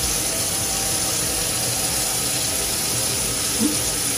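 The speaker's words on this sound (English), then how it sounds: "Now is to wash or rinse all these ingredients in the sink." Tap water runs into a sink while tomatoes and other ingredients are rinsed, a steady, close splashing hiss that continues without a break.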